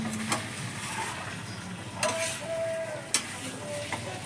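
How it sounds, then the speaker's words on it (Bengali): Meat being sautéed in a pan for Bengali kosha, with a close, continuous frying sizzle and a few sharp spoon scrapes against the pan during a short stretch of stirring. "যত কষাবো তত মাংস তত ভালো হবে।"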